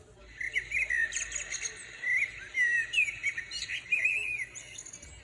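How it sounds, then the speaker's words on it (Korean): Baby birds chirp rapidly in high, thin twittering calls, near and continuous, with brief pauses between bursts. "아기 새 소리를 들어볼까요?"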